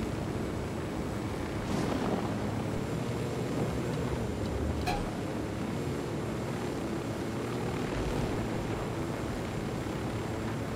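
Helicopter rotor and engine drone in the video game Ghost Recon: Fallen Ghosts, a steady loud whir filling the whole stretch with no clear breaks, rain-like wash mixed in.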